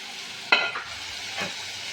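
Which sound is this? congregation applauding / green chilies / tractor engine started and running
green chilies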